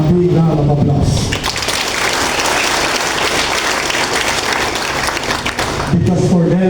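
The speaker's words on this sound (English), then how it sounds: "Please give them a big round of applause." An audience at a military closing ceremony bursts into sustained applause for infantry battalion members, a loud, dense wash of clapping with a few voices near the start and end.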